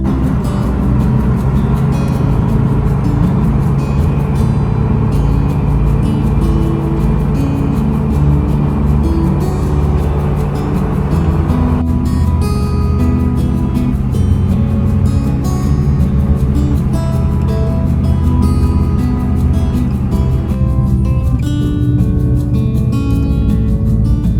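A first-generation Toyota Tundra pickup cruising on the highway while towing a trailer, giving a constant loud low engine and road drone with rumbling tires and cabin noise throughout.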